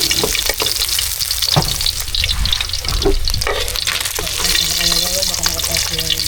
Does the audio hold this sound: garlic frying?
yes